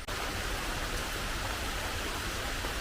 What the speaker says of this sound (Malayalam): മഴയും തുടങ്ങി.